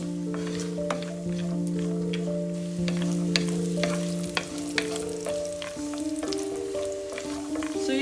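Nuts and dates roast in ghee in a pan, giving a steady, close sizzle with scattered crackles and stirring scrapes, while a melodic music bed plays along underneath.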